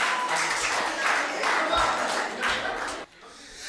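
An audience at a Hindi comedy poetry gathering gives steady, dense clapping to welcome a poet. The applause holds at moderate loudness, then drops away abruptly near the end.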